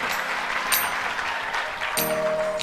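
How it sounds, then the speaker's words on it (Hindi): A studio audience at a live Ramadan iftar television broadcast claps in a dense, continuous wash that stays steady for a couple of seconds, with crowd noise and a brief tonal hum mixed in. "तालियां बजाएंगे, तालियां बजाएंगे।"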